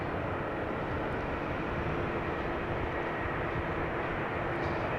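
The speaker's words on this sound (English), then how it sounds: "Now checking flight radar, the A340 is lining up" Steady broadband jet roar from an Airbus A340 airliner lining up on the runway at Amsterdam Schiphol Airport, a constant distant rumble and hiss with no talk.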